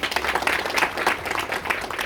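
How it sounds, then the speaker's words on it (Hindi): Audience at an aplastic anemia awareness rally in Indore claps to welcome a guest, a close, lively burst of applause with rhythmic pulses throughout the short span. "हम सभी लोग तालियों से उनका स्वागत करते हैं।"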